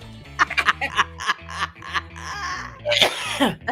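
Repeated harsh coughs and throat-hacking bursts, like hocking a loogie, over a steady low musical beat, growing louder and raspier toward the end.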